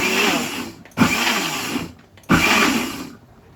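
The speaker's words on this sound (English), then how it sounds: "what I'm doing now is blending the last batch of the pepper" A kitchen blender whirs through a batch of peppers for Nigerian ayamase stew, running in loud motor bursts that rise, sag and cut out, then restart twice.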